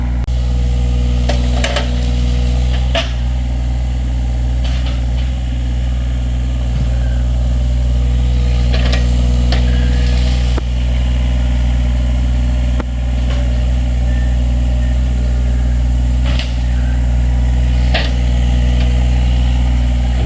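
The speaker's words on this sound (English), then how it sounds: "This is just way better to have this excavator here." A heavy excavator engine runs steadily on a steep wooded hillside, a loud, deep idle-like rumble lasting throughout with occasional clanks and knocks layered on top.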